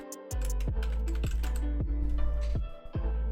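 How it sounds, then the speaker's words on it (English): Keys clack on a computer keyboard as someone types a short word into a stream setup, a run of distinct, evenly spaced clicks close to the microphone with no talking. "Let's just go type into here, just chatting."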